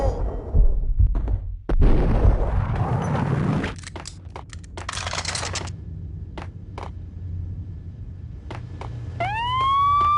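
A police siren wails in the Max Payne video game, with rising tones swelling loud near the end after a stretch of gunfire-like cracks and dull low rumble.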